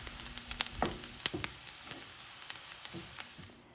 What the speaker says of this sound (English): melt 2 tablespoons of salted butter in a skillet and add your diced onions